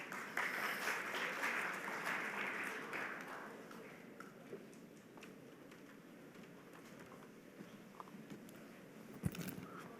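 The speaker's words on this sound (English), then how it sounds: "Please welcome him with a huge round of applause." An insurance summit audience claps to welcome a speaker; the applause swells briefly at the start, fades within a few seconds, and leaves a quiet room with scattered small noises.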